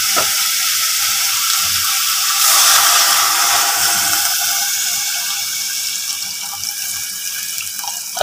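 Water pours steadily into a cooking pot holding sautéed cow skin for balbacua, a loud continuous splashing rush that swells briefly and then eases slightly, with no voices.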